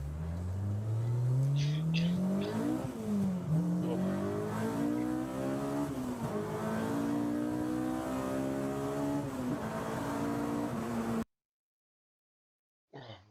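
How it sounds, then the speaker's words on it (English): A Honda VTEC engine revs hard in repeated rising pulls, its pitch climbing and dropping between shifts, loud and close, before the sound cuts off abruptly into silence. "I could listen to them VTEC rips all day long."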